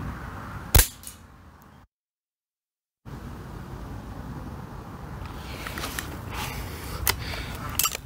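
A TX200 air rifle fires a JSB pellet at a target, one sharp close crack followed by a brief gap, then quiet outdoor ambience with small faint knocks.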